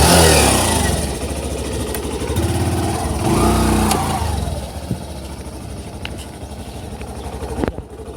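A motorcycle rides along a muddy road in the evening. Its engine drones loudly and close, revving, then eases to a lower, steadier hum.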